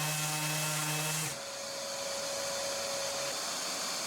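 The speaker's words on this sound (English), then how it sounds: "Now I'm removing the router bit marks with the sander." A power sander whirs steadily against wood, smoothing away router bit marks; the motor's tone shifts about a second in, then the continuous close-up whine and rasp carries on alone.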